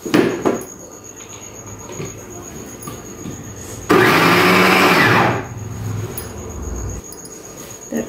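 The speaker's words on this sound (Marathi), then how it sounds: "असं करून आपल्याला सर्व दाणे काढून घ्यायचे आहे मिक्सरमधून" A mixer grinder whirs loudly for a burst of about a second and a half, grinding corn kernels into paste, framed by quieter kitchen clatter and handling noises.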